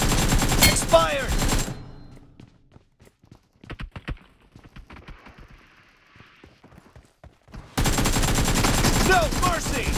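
Sharp gunshots and machine-gun bursts in PUBG Mobile arena play, a loud rattling fusillade at the start and end with scattered single shots and footsteps in a quieter middle stretch.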